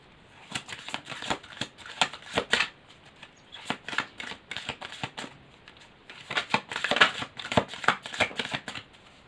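Tarot cards being shuffled and handled by hand, crisp riffling and flicking bursts in uneven clusters with short pauses, close and fairly loud with no talking.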